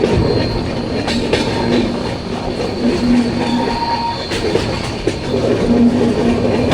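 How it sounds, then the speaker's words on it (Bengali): A Vistadome train creeps slowly along a hillside between Araku and Jagdalpur, giving a steady close rumble with rhythmic wheel clatter and intermittent thin squeals from the wheels. "খুব স্লো স্লোলি চলছে দেখুন বন্ধুরা ট্রেনটা কীভাবে যাচ্ছে পাহাড়ের গা ঘেসে"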